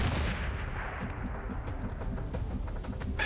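Grenade blast in XCOM 2 aimed at an enemy general, opening with a loud close explosive crack and clang that decays into a lingering rumble and scattered debris ticks, no talk.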